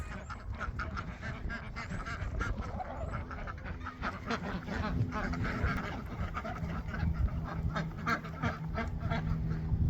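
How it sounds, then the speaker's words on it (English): Ducks quacking among chickens in a farmyard, a busy jumble of honking calls mixed with a person talking, moderately faint and continuous. "Only girl ducks quack."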